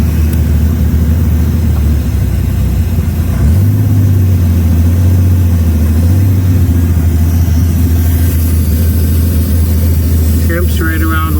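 A 1933 Auburn V12 boat tail Speedster, started for the first time after 58 years in a museum, runs with a loud, close, steady engine rumble that steps up in pitch partway through and settles into an even idle.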